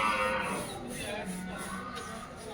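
Buffaloes lowing amid the murmur of the busy outdoor Tanaula cattle market, with a steady crowd din and scattered animal calls throughout.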